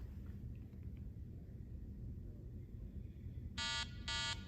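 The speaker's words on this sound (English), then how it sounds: "now the alarm goes off." A timer alarm on a pressure-sensitive seat buzzes in two short, loud electronic pulses near the end, following several seconds of low rumbling background noise.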